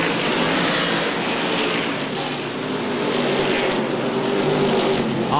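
CRA street stock race cars roar around Winchester Speedway in a continuous, loud engine drone that swells and eases slightly as the pack passes. No voices are heard.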